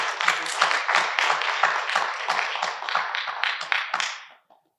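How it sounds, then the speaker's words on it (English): Applause from a small audience at a presentation, a dense burst of hand clapping lasting several seconds, steady and close, then quickly tapering off to silence. "A big round of applause for all our 3 topic proposal presenters."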